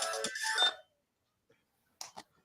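A phone ringtone sounds during a call: a bright tonal melody plays for under a second, falls silent, then briefly returns, fairly faint.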